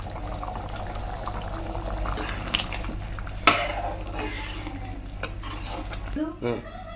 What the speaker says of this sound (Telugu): ఇప్పుడు మూత తీసుకొని ఒకసారి అంతా కలబెట్టాలండి